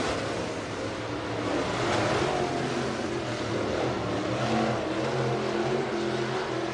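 Modified race cars lap at Buena Vista Raceway during a night heat race: a dense, continuous engine drone from several cars, fairly distant and steady, with slight swells in loudness.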